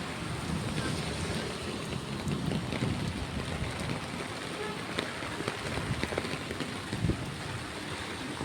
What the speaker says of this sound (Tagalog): Grabe yung ulan mga kababayan, sobrang lakas.